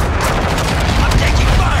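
Dense, continuous automatic gunfire from the Call of Duty Modern Warfare II video game rattles loud and close, a sustained fusillade with booming impacts mixed in.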